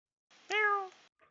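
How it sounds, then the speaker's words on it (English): A single clear domestic cat meow, drawn-out and tonal, close and fairly quiet, followed by a tiny faint chirp, with no talking. "you have a cat, Rasputin."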